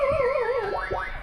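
A Tesla Model Y Performance Juniper locking: a loud, close electronic chirp with a wavering tone, followed by two quick rising sweeps, heard alone without talk.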